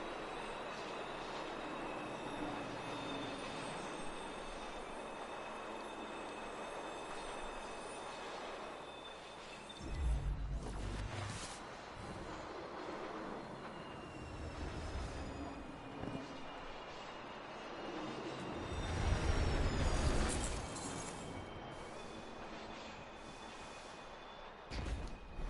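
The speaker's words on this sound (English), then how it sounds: "If I can just not get hit by trains the rest of the way" A train passing in the Destiny 2 video game gives two heavy rumbling surges over a steady low background hum, each swelling and fading within a few seconds.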